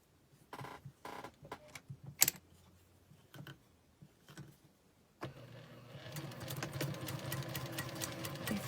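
A sewing machine stitches quilt squares together for a mini nine-patch block: a few short bursts and clicks first, then a steady, continuous run of close-up stitching that builds to the end.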